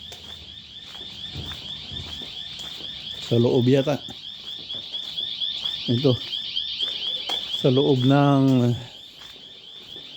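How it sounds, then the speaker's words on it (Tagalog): An alarm rings inside an office with no security present, a steady high-pitched electronic tone sounding throughout while people talk loudly nearby. "May nag-a-alarm."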